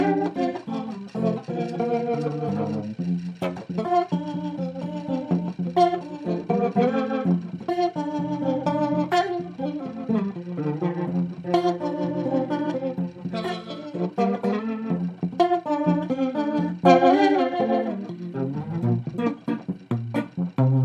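Leslie tremolo unit spinning on its high-speed motor in a studio, giving a fast warbling shimmer to a sustained organ-like instrument that plays changing chords for about twenty seconds, with no talking.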